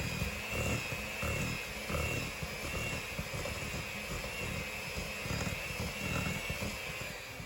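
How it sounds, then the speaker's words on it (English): An electric mixer beats red velvet cake batter until it is fluffy, a steady, close whirring drone with a faint rhythmic flutter and no talking. "I do suggest using an electric mixer because it's going to take you at least 2 to 3 minutes to get this nice and fluffy"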